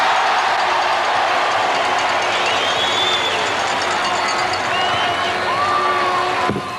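A football crowd roars and cheers at a night VFL grand final between Fitzroy and North Melbourne at Waverley Park in 1978, a dense, sustained wash of noise with faint whistle-like tones drifting through.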